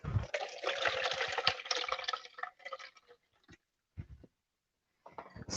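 Water carrying chopped onion is poured into a kitchen strainer, a splashing pour lasting about two seconds that trails off into a few separate drips and trickles, close by and with no voices.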